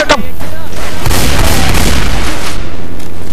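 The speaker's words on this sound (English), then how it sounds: "Stop shooting me!" Gunfire in the Left 4 Dead 2 video game, a dense rattling stream of shots and booms in a loud, saturated mix of game action, with someone shouting over it.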